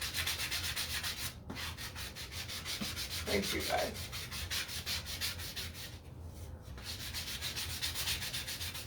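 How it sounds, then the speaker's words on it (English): Steady abrasive rubbing of a sanding block on wood, continuous strokes with brief pauses, close up; a voice speaks briefly. "I'm gonna grab a different sanding block"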